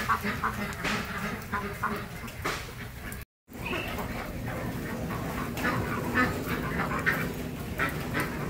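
Pekin ducks outdoors in wet weather after a night of rain, giving repeated scattered quacks and clucking calls over a steady rainy background, with one brief dropout partway through.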